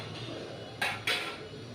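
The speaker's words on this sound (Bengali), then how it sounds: "ডিমটা আমি একটু খুন্তি দিয়ে ফাটিয়ে দিলাম" A metal spatula cracks boiled eggs in a pan of egg curry with small potatoes and peas, two sharp clinks about a quarter second apart over a quiet background.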